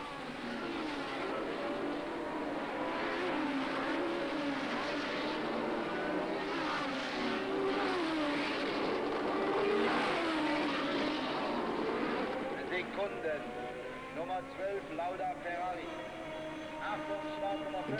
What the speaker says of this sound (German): Lauda zum zweiten Mal hinunter in die Hatzenbach.